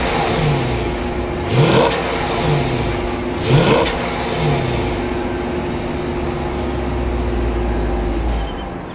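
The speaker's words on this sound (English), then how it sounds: "Let's listen to the exhaust and see how it sounds." A Chrysler 300 SRT8 sedan exhaust idles with a low rumble and is revved twice in quick, sharp bursts, the roar rising and falling each time.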